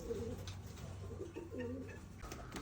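Pigeons cooing nearby, soft throaty low coos repeating in short phrases over a faint background hum, quiet and fairly close.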